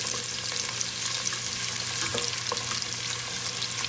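Onion and butter fry in olive oil with a steady, close sizzle and crackle that carries on the whole time, broken by a few small pops and no voices.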